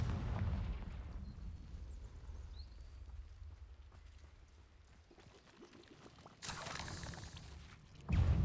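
Blasts of a fiery explosion spell in a Hogwarts Legacy battle: a rumbling burst at the start, a quieter stretch, then a sharp loud boom followed by another heavy impact at the end.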